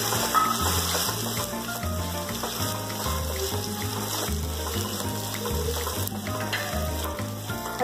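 Carrots and chana dal frying in a pan give a steady, close sizzle that runs throughout, with occasional stirring and background music underneath.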